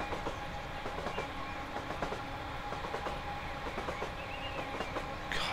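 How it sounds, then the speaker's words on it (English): A London Overground train rumbles past with repeated clickety-clack of wheels over rail joints and a steady rolling roar; it sounds fairly close and moderately loud, carrying on without voices. "Too busy looking at the train."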